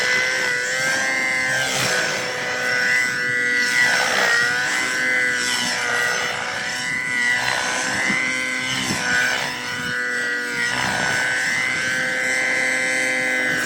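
A Nimbus Nitro RC nitro helicopter, its engine running rich on early flights, gives a continuous high buzzing whine that rises and falls in pitch as the throttle and rotor speed change, steady and fairly loud.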